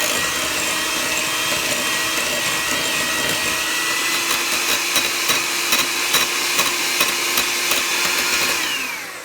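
Electric hand mixer whirring steadily as it creams a brown sugar batter for raspberry squares, a loud continuous motor whine with faint rattling beater clicks, winding down at the end; no talking.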